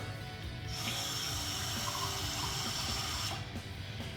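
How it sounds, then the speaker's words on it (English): Water pours steadily from a tap into a roast beef marinade for several seconds, a continuous close splashing rush that starts and stops cleanly, with no talk. "I'm gonna add some water in there, right?"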